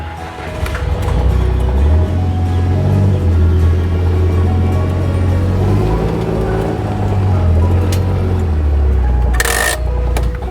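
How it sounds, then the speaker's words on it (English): Skid steer loader driven on a ranch near a barn, a steady loud diesel engine rumble and churn that stays close throughout, with a brief clatter near the end as it is parked. "Move the skid steer out of the way."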